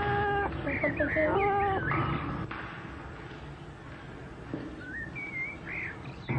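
A cat meows several times in a short, wavering series, close and fairly clear against a busy ancient household setting with background murmur.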